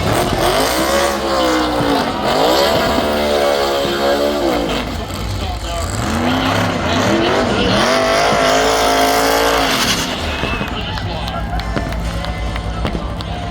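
A race car at the Coca-Cola 600 slows to a stop, heard from the stands: loud engine roar and revving with rising and falling pitch, mixed with crowd noise and people talking nearby.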